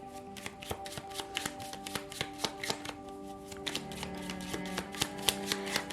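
Tarot cards are shuffled by hand in a quiet room, a rapid series of crisp riffling snaps and taps coming close and clear with no voices.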